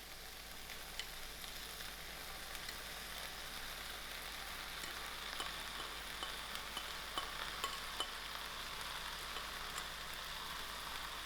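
Onions and mashed potatoes for turkey stuffing are stirred in a pan on the stove, giving a faint, continuous soft scraping and mixing with a low sizzle and occasional small clicks, with no talking.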